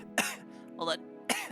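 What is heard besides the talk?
streamer coughing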